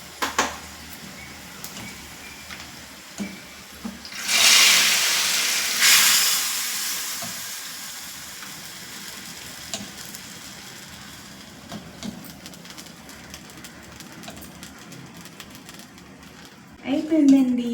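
Fried tempering poured into moong dal rasam gives two short bursts of loud sizzling hiss a couple of seconds apart, then quiet kitchen noise with a clatter at the end.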